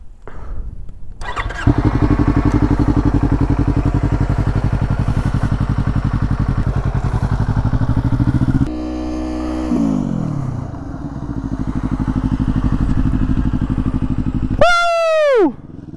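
Motorcycle engine cranks and catches, then idles with a steady close rumble, revs and shifts while pulling away, ending with a rising high-pitched whine as it rides off.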